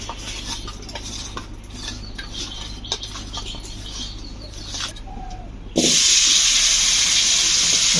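Mixed dried fish (shutki) dropped into hot oil with turmeric and dried chili powder, breaking into a loud, steady broadband sizzle partway through after quieter clinking of utensils, close and continuous with no talk.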